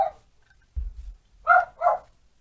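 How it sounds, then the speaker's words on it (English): A dog gives a few sharp barks close by, spaced apart, with quiet pauses between them. "There's Annie barking like mad."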